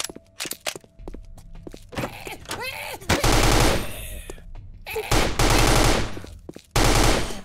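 Video game gunfire from a Left 4 Dead–style zombie shooter: scattered single shots and clicks give way to loud sustained automatic bursts, with short pauses between volleys and no talk.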